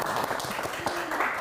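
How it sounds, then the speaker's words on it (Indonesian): Audience applause at an Indonesian education talk show event, a short steady burst of many hands clapping with some voices mixed in. "Boleh tepuk tangannya gitu semuanya."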